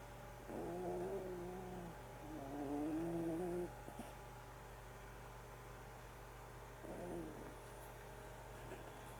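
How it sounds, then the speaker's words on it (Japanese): A sleeping pet snores with its nose pressed against something, giving three soft, nasal, rasping snores spaced a few seconds apart, close up and faint over a quiet steady background hum. "ちかちゃん、お花を押し当てて寝るのでいびきをかくのです。"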